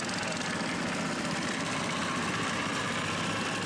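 A boat motor runs at a floating market on the Mekong River, a steady, dense mechanical drone that holds unbroken and fairly close, with no talking.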